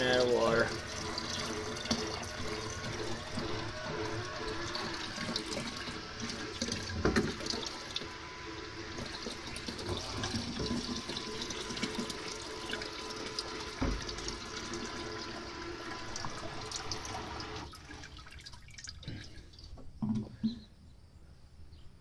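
Water runs and gurgles steadily from a solar pump's outlet drawing from a rain barrel, a constant splashing flow close by that thins out and sputters near the end as the barrel runs dry.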